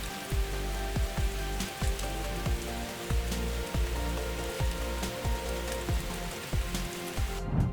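Rain falls in a city street, a steady, close hiss of drops on hard surfaces, overlaid by a repeating rhythmic thumping and creaking roughly every half second, loud and continuous without talk.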